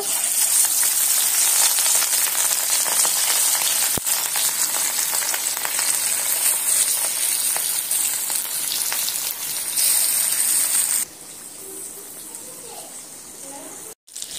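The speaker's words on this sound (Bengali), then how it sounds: "এবার একে একে মাছগুলো তেলের মধ্যে ছেড়ে দেব।" Pieces of rui fish frying in hot oil, a loud dense crackling sizzle that holds steady, then drops sharply quieter near the end with a brief pause before resuming.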